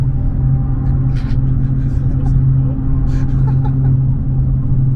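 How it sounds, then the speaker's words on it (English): A car's tires running along a road rumble strip give a steady low droning buzz under a continuous engine rumble. Voices talk over it. "How long can you stay on the rumble strip for?"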